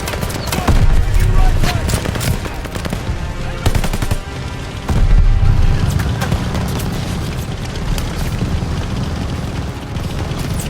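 Dense machine-gun fire and booming explosions in a Call of Duty: Vanguard battle, loud and continuous, with shouted commands from soldiers over the din.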